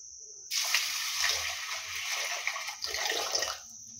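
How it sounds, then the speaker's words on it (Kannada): Water pours into a pressure cooker as moong beans are rinsed in a kitchen, a close, steady splashing gush lasting a few seconds before tapering off. "ಹೆಸರು ಕಾಳನ್ನು ಹಾಕ್ಕೊಂಡು ನೀಟಾಗಿ ಒಂದು 2 ರಿಂದ 3 ಬಾರಿ ವಾಶ್ ಮಾಡ್ಕೊಳ್ತಾ ಇದ್ದೀನಿ"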